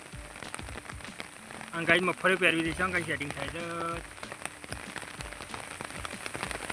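Rain falls steadily on a surface at a Gujarati farm during groundnut sowing, a faint continuous patter running under a man's speech.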